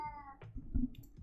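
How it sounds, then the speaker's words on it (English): A house cat lets out a short meow, then a second, rougher yowl a moment later, fairly close and moderately loud indoors, with no talking. "Had to tell off my cat."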